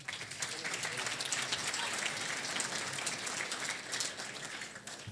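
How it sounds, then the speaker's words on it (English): Lukewarm applause from a gala audience at a chamber of commerce awards dinner, a steady spatter of hand claps held at an even level throughout, fairly distant and roomy. "That was a nice lukewarm round of applause for you."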